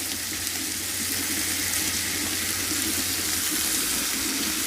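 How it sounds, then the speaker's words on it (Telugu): Pieces of broad bean (chikkudukaya) land in a frying pan of hot oil and raise a steady, loud sizzle that continues evenly, with no voices. "ఫ్రై అయిన తర్వాత నేను వచ్చేసి చిక్కుడుకాయ ముక్కలన్నీ వేసేస్తున్నాను"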